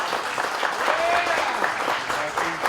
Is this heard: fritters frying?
no